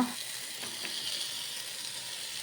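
Fried prawns stirred into a sizzling masala in a pan for prawn biryani, a steady close frying hiss with a couple of soft stirring scrapes early on.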